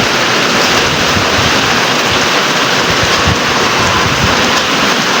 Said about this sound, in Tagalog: Grabe mga kapakner, ang lakas ng ulan.